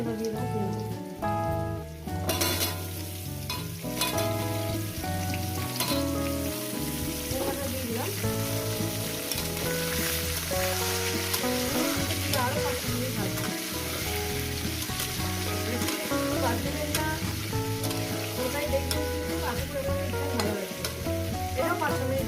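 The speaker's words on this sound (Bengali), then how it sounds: "আলুটাকে পাঁচ মিনিট ভেজে নিয়েছি" Potato pieces fry in hot oil with spices while being stirred, a continuous crackling sizzle with occasional scraping, mixed under steady background music throughout.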